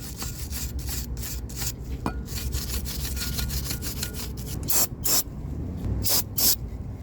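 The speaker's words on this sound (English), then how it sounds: "Clean up your caliper." Brushing and scrubbing grit off a rear brake caliper on a Mercedes W222 S-Class, a steady close raspy rubbing that runs throughout, with a few sharper bursts of strokes near the end.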